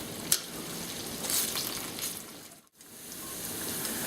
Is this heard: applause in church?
no